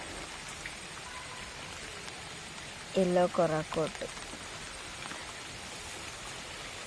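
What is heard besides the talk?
rain falling on garden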